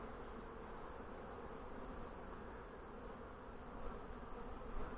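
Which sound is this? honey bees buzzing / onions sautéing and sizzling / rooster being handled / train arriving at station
honey bees buzzing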